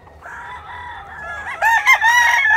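A rooster at a game farm crows loudly and close, one drawn-out call that rises sharply toward its end, with another bird clucking faintly beneath it.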